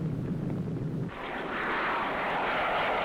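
Carrier aircraft in the Sea Power naval combat game roar past in a steady, loud engine drone that swells into a broad rushing wash partway through, with no voices present.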